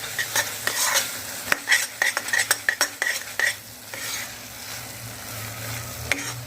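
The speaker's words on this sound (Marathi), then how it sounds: "गॅस आता बंद करूया आणि थोडा वेळ असं ढवळत राहूया" Jamun (java plum) fudge mixture stirred in a pan with the heat off, a spoon scraping and knocking against the metal in quick clustered strokes, then easing into a steady low stir; no talking.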